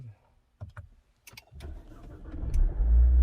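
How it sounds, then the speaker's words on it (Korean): A Renault Samsung XM3 1.3 TCe SUV is started by push button: a few faint clicks, then the engine turns over and settles into a rising, steady idle rumble nearby. "자, 시동을 한번 걸어 보겠습니다"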